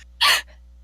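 A single sneeze, a sharp, loud burst close by lasting a fraction of a second, followed by a faint trailing breath over quiet background hum.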